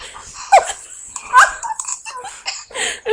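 Several people imitate creepy heavy breathing with ragged, breathy bursts in uneven rhythm, mixed with giggles and laughter, close to the microphone.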